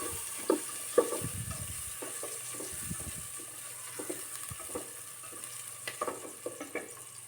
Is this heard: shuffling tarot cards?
no